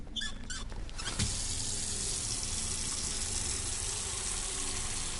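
Water gushing steadily from a tap into a container in an autopsy simulator game, a bright continuous splashing rush that starts after a brief clatter and runs alone to the end.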